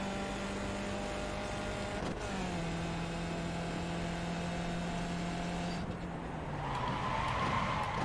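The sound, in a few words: race car tires skidding as the brakes lock up, iRacing video game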